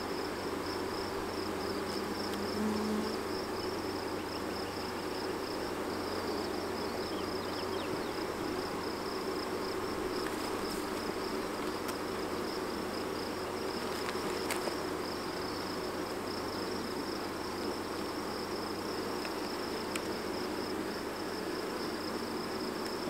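Honey bees buzz in a steady, soft drone while being moved out of a swarm trap, a continuous hum close by with no voices.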